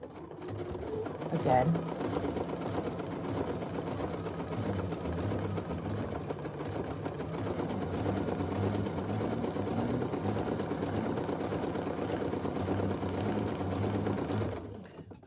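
A sewing machine stitches a small table runner, its needle chattering in a steady, rapid rhythm for about thirteen seconds, with a short spoken word near the start.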